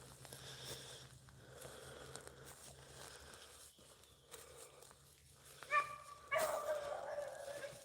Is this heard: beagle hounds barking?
yes